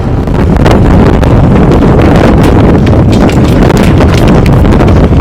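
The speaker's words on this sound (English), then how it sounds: "Very windy." Heavy wind buffets the microphone in a constant loud roar with gusty rumbling throughout, no voices.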